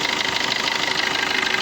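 The 2017 Maruti Suzuki Swift Dzire VDI diesel engine idles with a steady, close, even rumble and a faint rhythmic ticking, with no voices over it.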